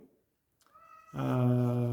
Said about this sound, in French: je vais ouvrir au chat parce que sinon, vous allez l'entendre pendant toute la durée de la vidéo